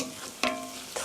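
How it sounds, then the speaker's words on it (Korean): Glass noodles for japchae stir-frying in a pan, a soft sizzle with a couple of quick scraping stirs. "이렇게 볶아주세요. 당면에 간이 스며들 수 있게"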